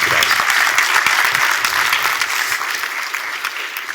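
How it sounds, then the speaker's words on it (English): An audience at the C Change Conference 2024 gives a round of applause, steady dense clapping from a sizeable crowd that holds strong throughout and tapers slightly toward the end. "Can we give Darren a round of applause?"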